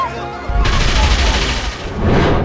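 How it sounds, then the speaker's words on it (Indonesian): A Tommy Gun fires a rapid, loud burst of automatic gunfire that continues for about two seconds, over a lingering musical tone. "Tommy Gun!"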